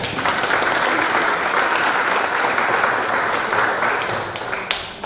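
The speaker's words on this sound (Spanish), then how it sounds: "Un aplauso, por favor." Conference audience applauding steadily, a dense sustained wash of clapping at close range that thins slightly near the end, with no talk over it.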